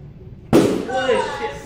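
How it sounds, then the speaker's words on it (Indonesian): A balloon bursts during a guided-inquiry science experiment in a classroom: one sudden, loud, sharp pop after a quiet moment, followed by a burst of reacting voices. "Dugaan kalian betul bahwa balonnya meledak."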